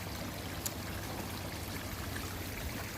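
Water runs steadily from a pipe through a potting tray into a koi pond, making a continuous close babbling trickle with no pauses.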